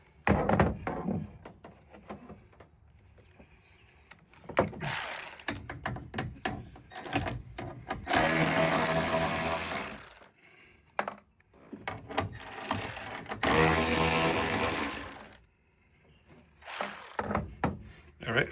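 8mm taillight bolts on a Ford F-series truck are worked out with a ratchet, in bursts of close mechanical clicking and rattling separated by short pauses.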